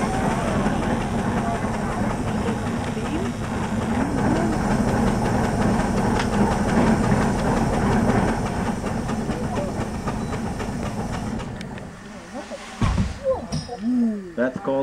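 A steam donkey engine hauls a log at a historic mill, with loud continuous chuffing and hissing steam plus rumbling cable and machinery, easing off near the end into sharper bursts of exhaust and clanks; a person talks over it.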